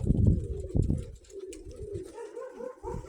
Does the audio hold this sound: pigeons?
yes